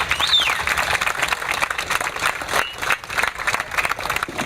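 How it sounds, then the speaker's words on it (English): Crowd applause at an outdoor community walk against gun violence, a moderately loud, continuous clatter of many hands with uneven swells, heard alone without speech. "And let's give them another round of applause."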